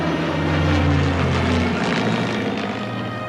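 Rolls-Royce Merlin piston aircraft engines drone loudly overhead, a deep throbbing roar that swells and holds steady with a slight pitch shift as the planes pass, no voices.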